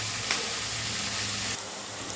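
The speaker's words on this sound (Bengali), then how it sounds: "পেঁয়াজ আমার একদম লাল লাল করে ভেজেছি" Large onions frying in a pan until reddish brown, a steady close sizzle with no talk over it, briefly louder near the start and easing slightly toward the end.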